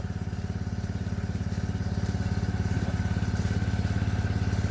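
A small engine-driven water pump for spraying chili plants runs steadily nearby, a continuous putt-putt drone with a fast regular rhythm and clattering overtones, loud and alone throughout.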